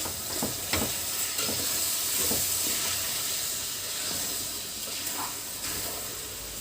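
Rice tumbling into a hot pan for Egyptian-style shrimp rice, with a steady broadband sizzle and hiss and a few scraping stirs, close and fairly loud, no voices.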